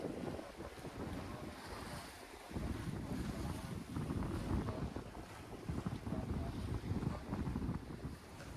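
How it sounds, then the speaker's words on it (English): A sailboat under way offshore, with steady rushing wind buffeting the microphone and the wash of waves along the hull, continuous and fairly loud with no talking. "Oh, oh, we're sailing."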